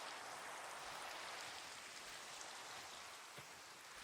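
Steady rain falling outdoors, a soft continuous hiss with faint scattered drips, very quiet and even, with no talking.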